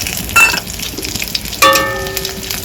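Bay leaf, dried chilli and whole cumin frying in hot oil as a tempering, with two sharp metallic clinks of a utensil against the pan over a crackling sizzle.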